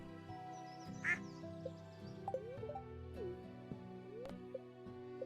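Video game duck quacks just after buying a duck, a sharp loud quack near the one-second mark over steady layered game music with a few soft clicks.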